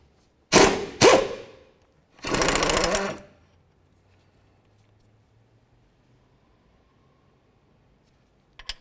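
A power tool fitted with an 18mm socket backs out the brake caliper bracket bolts on a 2014-2018 GMC Sierra 1500 front brake. Two short close bursts are followed by a longer whirring run, then quiet.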